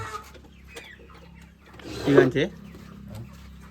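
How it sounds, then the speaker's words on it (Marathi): Village hens cluck and squawk in a short burst, one louder call rising midway, with quieter clucks and faint background voices around them. "आम्हाला इथे कोंबड्या भेटल्या आहेत"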